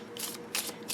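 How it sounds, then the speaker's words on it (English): A deck of reflection cards shuffled by hand over a purple cloth: a quick, soft papery riffle in a few short rustling bursts, close and fairly quiet. "I'm going to give it some good shuffling here"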